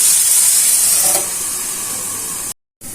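Sliced bitter gourd frying in a pan of hot oil, a loud, steady hiss and sizzle close to the mic that eases slightly partway through and cuts out briefly near the end.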